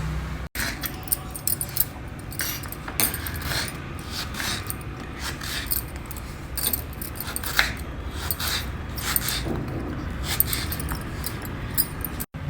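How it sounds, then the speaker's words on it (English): Raw, unpeeled mango is cut into pieces with a knife on a board, giving a run of close, irregular clicks and scraping taps with small pauses, no talk. "Then chop it into pieces without peeling."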